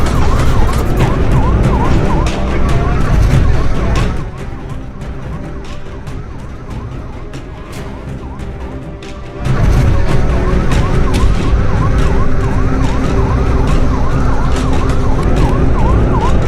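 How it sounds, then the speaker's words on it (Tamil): Police sirens from eight police vehicles chasing a single car on a highway wail loudly and continuously with rising-and-falling tones, dipping quieter for a few seconds in the middle before returning at full strength. "சைரன் சத்தத்தால அதிகாலையில ஊரையே அலற விட்ட போலீசார்."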